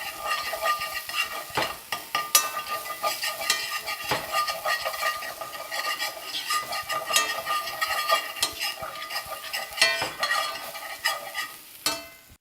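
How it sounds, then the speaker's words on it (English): Minced garlic clove sizzles steadily in a hot cast iron skillet while a utensil stirs and scrapes, with frequent clicks and taps of the tool against the pan over the frying hiss. "As soon as it hits the skillet, you just want to mix everything as you go."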